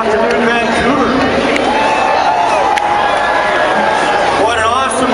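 Crowd at a 420 protest in Vancouver, with a dense outdoor hubbub of many voices and scattered cheers under a close speaking voice.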